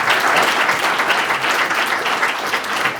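Audience applause at an annual members meeting of a sustainability organization, a dense, steady wash of clapping from a sizable crowd, loud and continuous throughout.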